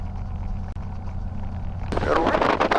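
T-6 Texan aircraft engine at Stallion 51 in Kissimmee, Florida, rumbling steadily while taxiing, then swelling louder and rougher as the throttle is eased up, with wind buffeting the microphone.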